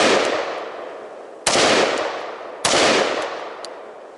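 Three loud rifle shots ring out at a shooting range, spaced a little over a second apart, each a sharp crack with a long decaying echo, and no talking.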